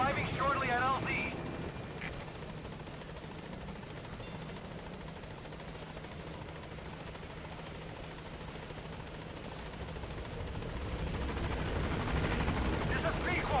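Pequod helicopter in Metal Gear Solid V: The Phantom Pain arriving at the landing zone, a steady, loud rotor and engine roar throughout, with brief voices near the start and end.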